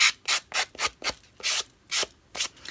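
A nail buffing block sands a paper coaster mini album in short rhythmic rasping strokes, about eight quick scrubs close up, with brief pauses between them.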